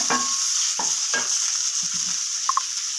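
Chopped tomatoes with salt sautéing in a pan, a bright continuous sizzle with a few soft spatula scrapes and light taps, close and without speech.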